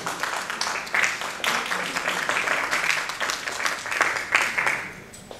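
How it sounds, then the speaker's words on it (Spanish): Audience at a disability council seminar gives a warm round of applause, steady dense clapping that fills the room for several seconds before tapering off. "solicito a quien recibamos con un fuerte aplauso"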